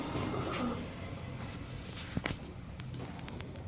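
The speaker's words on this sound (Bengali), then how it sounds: "দুধ খাকি একটা জোড়া মাশাআল্লাহ দেখেন কবুতরগুলো দেখেন" Pigeons at a pigeon sale, including Pakistani fancy breeds and highflyers, coo low in the background while shuffling and light footsteps move about, with a couple of sharp taps and scuffs nearby.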